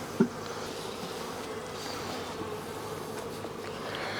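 Honeybees hum in a soft continuous drone close by during a hive inspection, with one brief louder knock near the start.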